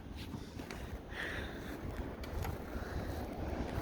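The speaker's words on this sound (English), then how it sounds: "This is crazy wind." Strong blizzard wind roars and buffets the microphone outdoors amid blowing, drifting snow, a dense rushing noise with gusting surges, moderately loud and without speech.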